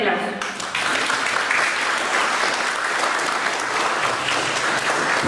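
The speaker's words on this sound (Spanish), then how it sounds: "para quien pido un fuerte aplauso" A large audience at a formal lecture event breaks into sustained applause, dense and loud, continuing steadily from start to finish.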